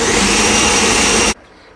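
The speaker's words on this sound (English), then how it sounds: "just feel free to add water till same level and then blend." A blender running at full power on egusi melon seeds, hot pepper, egg, onion and stock, a loud steady whir that cuts off abruptly after about a second and a half.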